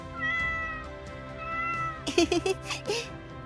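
A domestic cat meows several times in quick succession, fairly close, following a quieter stretch with soft background sound and no talking.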